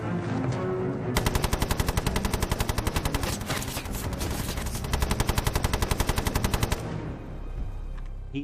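A Bren light machine gun in a WWII battle drama fires long rapid bursts that empty a magazine, loud and close, a rattling stream of shots with a short pause between volleys.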